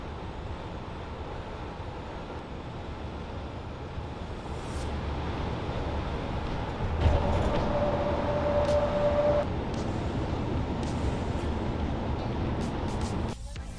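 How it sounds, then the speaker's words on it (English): A small train in Japan runs with a steady, dense rumble heard from on board, the noise swelling slightly midway with a faint tonal whine, continuous and moderately loud throughout. "It's a little train."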